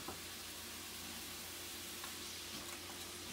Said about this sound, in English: hear just a little bit of the sizzle from the pan